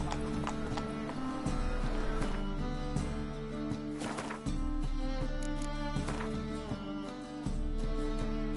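Roach the horse trots in The Witcher 3, with regular clip-clop hoof beats over a steady low game soundscape, the rhythm shifting slightly as the pace changes.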